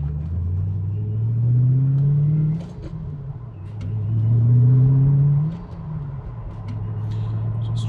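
A 15-year-old barn-find Ford GT driven gently, its engine rumbling low and rising twice in smooth surges before easing back, heard from close by with no talk.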